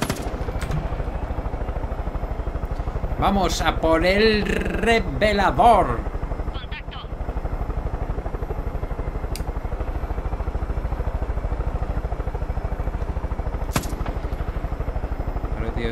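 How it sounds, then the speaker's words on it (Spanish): Machine-gun helicopter in the video game Far Cry 5, a steady rapid rotor chop throbbing loudly throughout, with someone briefly speaking over it and a short rattling clatter partway through. "Aquí está el helicóptero con ametralladora."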